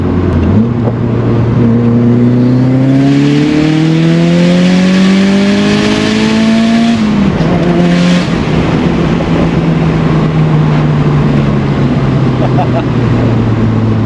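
A 380 hp Mitsubishi Lancer Evolution 6 accelerates hard, its loud engine climbing steadily through the revs before a gear change and a renewed pull, close to the microphone, with occupants talking over it.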